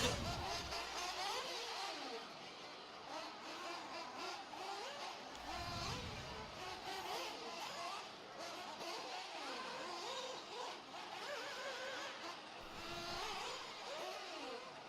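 Nitro off-road RC race cars screaming around a track during qualifying at a national championship, high-pitched engines buzzing and rising and falling continuously at mid distance, with an announcer calling laps over the top.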